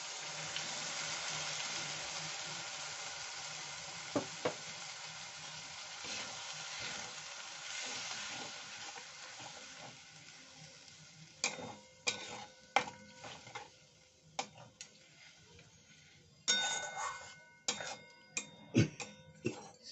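Soya chunks sizzling hard in a pan as a mix of soy sauce, vinegar, tomato sauce, salt and sugar goes in, a loud hiss that eases off before sharp clattering spoon strikes start stirring against the pan.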